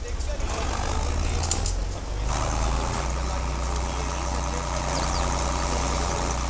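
An HMT 5911 tractor pulling a rotavator in Farming Simulator 22 gives a loud, unbroken low engine drone that holds steady throughout.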